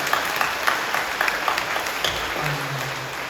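A church congregation claps during an Easter Sunday service, brisk scattered clapping nearby that settles as a voice begins speaking near the end.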